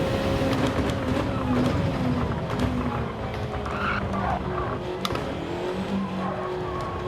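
Racing video game car spinning out, with a continuous engine drone and skidding tire noise running steadily throughout at moderate level, no voices.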